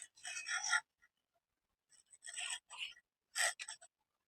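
Chalk or a marker draws straight lines across blouse fabric, producing several short, soft scratchy strokes separated by quiet pauses.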